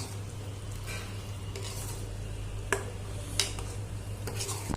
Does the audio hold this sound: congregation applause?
no